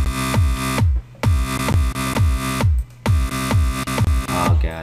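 A hard electro synth from FL Studio, layered with a punchy kick drum. Rapid thumping beats drive under the buzzing chords, which break off briefly twice before pounding on loudly.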